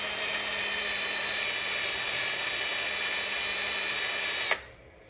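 A power sander works a turned wood bowl at 400 grit, a steady high whirring drone that holds level for several seconds and then cuts off abruptly near the end.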